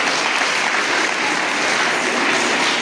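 Crowd at a Sunday school children's drama and culture competition applauding a team, dense, loud, sustained clapping filling the whole stretch without a break.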